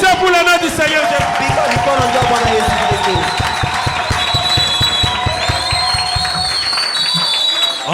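A church congregation claps in fast rhythmic unison with cheering and whoops, loud and close, while voices shout and sing over the top and a high sustained tone runs through the later part.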